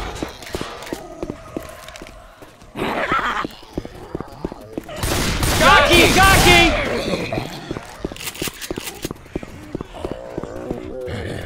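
Gunfire in Left 4 Dead 2 aimed at a Jockey infected: a busy stretch of repeated shots and chaotic game noise, loudest mid-clip in a dense burst, with voices talking throughout.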